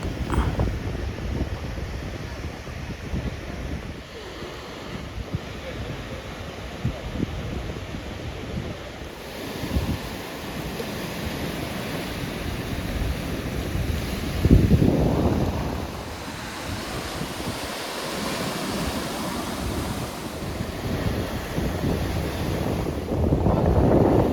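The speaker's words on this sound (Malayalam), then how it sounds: "ഈ ഒരു ഭാഗത്ത് നല്ല കാറ്റുണ്ട്" Strong wind gusts and crashing surf on a beach beside rocks, a loud continuous roar with buffeting wind noise on the microphone and waves swelling and breaking throughout, with no voices.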